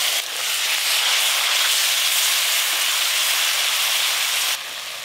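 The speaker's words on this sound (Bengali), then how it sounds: "এবার আমি গ্রেট করে রাখা টমেটো দেব।" Grated tomato hits hot oil spiced with cumin, coriander and chilli powder, setting off a loud, continuous hiss of sizzling that holds steady for several seconds before dropping slightly.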